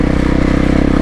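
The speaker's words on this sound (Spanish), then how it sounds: "cómo se mueve esta moto en este tipo de caminos" A new, very lightweight motorcycle rides along a dirt road, its engine a steady, loud, close drone with fast regular firing pulses and some rattle from the rough track.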